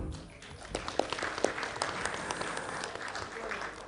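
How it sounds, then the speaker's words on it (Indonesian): Audience applause fills a hall with dense, steady clapping from many hands, fairly close and sustained throughout. "Beri aplaus dulu untuk kita semua."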